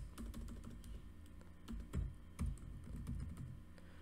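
Soft, close typing of Java code on a computer keyboard, quick uneven key clicks with a few heavier taps, heard alone at low volume.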